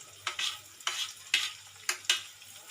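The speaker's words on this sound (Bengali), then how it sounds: "এবার এটা আমি সুন্দর করে 1 মিনিট কষে নেব" Onion, cumin seeds and chopped green chilli frying in a pan, stirred in short strokes: five or six sharp sizzling scrapes in an uneven rhythm over a quiet background hiss, close by and alone.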